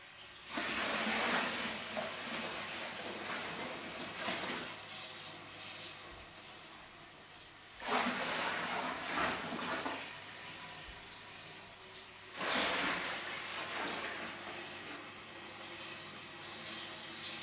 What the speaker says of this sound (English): let's top it up to 40 pints then, with cold water now.